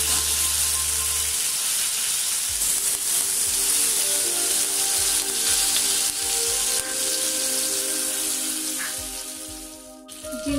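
Curry leaves sizzle in hot oil alongside cardamom while an egg chilli dish is cooked, a loud continuous frying crackle and hiss that runs for about ten seconds before fading.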